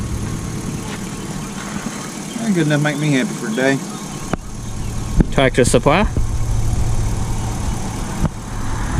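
A vintage forklift engine idles with a steady low rumble throughout, while people talk over it in short bursts.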